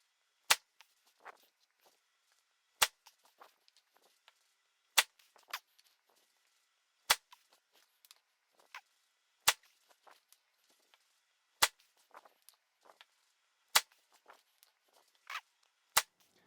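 Golf balls struck by an AI Smoke Triple Diamond driver, eight sharp isolated impacts spaced about two seconds apart, each a crisp crack with faint clicks and rustles between them, no talking.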